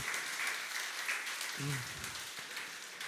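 A church congregation claps together in a steady wash of applause, with a short burst of voice rising briefly in the middle.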